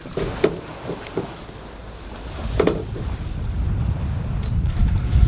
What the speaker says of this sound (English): here's an example of the wind just being incredibly frustrating